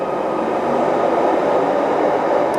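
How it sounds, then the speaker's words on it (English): A Merseyrail train pulls out of underground James Street station in Liverpool, giving a loud, steady rumbling roar that holds evenly through the whole stretch with no voices. "so that train leaving just here"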